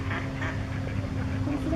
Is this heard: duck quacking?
yes